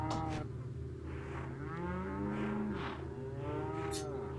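A bull in the Resident Evil 4 VR video game lowing in long, drawn-out moos, several calls rising and falling over a steady game background hum.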